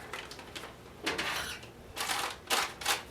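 Butter is cut into flour in a bowl for a Danish puff, with scattered scraping and crunching strokes in short bursts, close and fairly soft, without talk.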